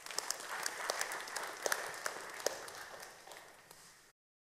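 Audience applause at a talk, a fairly faint patter of many hands with a few sharper claps standing out, fading away after about four seconds.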